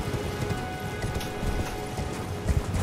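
Quick, muffled hoofbeats of a horse in the video game Elden Ring clatter in an uneven rhythm, mixed with a busy background hum.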